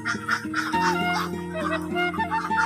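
Many ducks in a pen of about 300 laying ducks quack in a dense, continuous chorus, close and fairly loud, with overlapping calls throughout.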